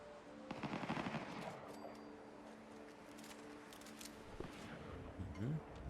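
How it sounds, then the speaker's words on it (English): Automatic weapons fire in Fallout 4 rattles in rapid bursts at a moderate distance, a sustained stutter of gunshots layered over game ambience, with no clear talk over it. "Sounds like automatic weapons."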